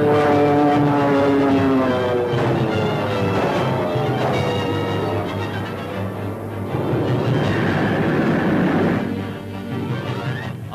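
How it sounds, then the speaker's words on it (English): Archival wartime recording of a crippled Hurricane fighter plane going down over land: a loud, sustained propeller-engine roar with shifting harmonic whine, rising and falling continuously with no talk. "You'll see his crippled plane crashing over the land."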